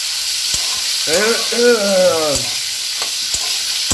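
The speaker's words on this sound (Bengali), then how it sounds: "প্রথমে আমি বিনস গুলো দিয়ে দিলাম সাদা তেলে বিনস গাজর আমি এগুলো এক এক করে দিয়ে দিলাম" Beans and carrots stir-frying in white oil in a home kitchen, a soft steady sizzle with sharp spatula taps against the pan, while a high wavering tone hums briefly in the middle.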